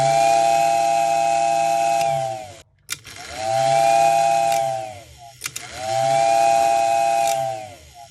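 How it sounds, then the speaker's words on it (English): An 83-year-old Royal Blue toy train set's locomotive running under power, giving three long loud steam-style whistle blasts separated by brief gaps, with a mechanical buzzing hum beneath and no voices. "Give her some juice and you give her a little whistle here."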